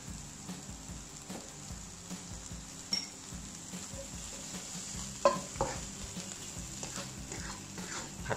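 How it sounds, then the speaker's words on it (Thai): Instant noodles stir-fry in oil in a pan, with soft continuous sizzling under repeated scraping strokes and occasional clinks of a utensil against the pan, close and fairly quiet. "ผัดต่อไปเลย"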